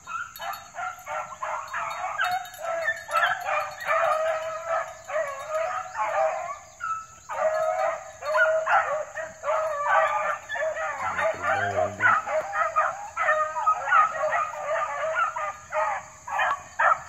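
Hunting hounds barking steadily in a busy, repeated chorus, mixed with yips and a brief howl, moderately close with some distant background noise and no talk.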